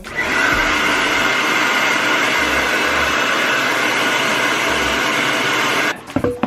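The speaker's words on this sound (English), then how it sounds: "I'm gonna go in my blow dryer and blow dry it down." A handheld blow dryer drying hair during a weave install hums and hisses loudly and steadily for about six seconds, then cuts off abruptly, followed by a few soft handling clicks.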